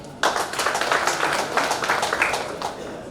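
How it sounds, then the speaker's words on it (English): Crowd applause for honourees at an end-of-year party in the Imperial Hotel, Juba, South Sudan: dense, continuous clapping starting abruptly and holding steady throughout, moderately loud and close, no talk. "Clap for them."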